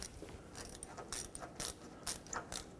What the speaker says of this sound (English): Now let's tighten up both clamps.